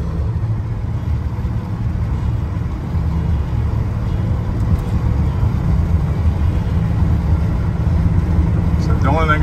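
A 1981 Chevrolet C10 pickup with a 350 engine cruising down the road, its steady low engine rumble and road noise continuous and fairly loud throughout, with a brief higher chirp near the end.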